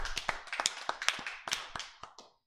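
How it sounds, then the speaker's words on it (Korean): A short burst of applause, scattered sharp claps from a group that thin out and fade within a couple of seconds. "하나님께 영광의 박수 돌려드리겠습니다."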